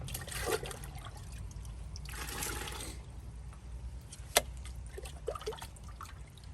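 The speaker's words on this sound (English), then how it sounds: "pour it in the bucket" Water is poured from a quart container into a bucket in short splashing bursts, with gurgling and trickling in between and a sharp knock partway through.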